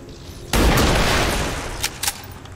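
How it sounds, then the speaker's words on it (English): A sniper rifle firing in the video game XCOM 2: one loud, close shot that booms and rumbles for about a second, followed by a couple of brief sharp clicks. "And using squad sight, I can use my sniper."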